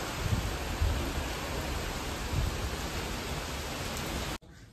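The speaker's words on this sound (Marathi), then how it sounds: "किती जोरात पाऊस येतोय बघा इथे." Heavy monsoon rain driven by strong wind pours down as a dense, steady broadband hiss with a few low thumps, then cuts off abruptly at the end.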